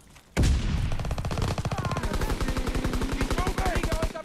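Rapid automatic gunfire from a World War II shooter game, Call of Duty: WWII, rattles loudly and continuously after a brief quiet start, with dense rhythmic bursts close to the listener.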